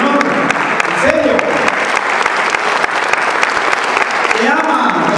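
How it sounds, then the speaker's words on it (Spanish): A church congregation applauding for the Lord during a sermon: loud, dense clapping from a large crowd, continuous throughout, with voices calling out over it. "¡Dale un buen aplauso al Señor!"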